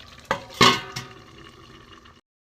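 A lid clanks onto a pot of prawn, pumpkin and greens curry, two metallic knocks followed by a fading ring and a soft simmering bubble underneath, close and brief.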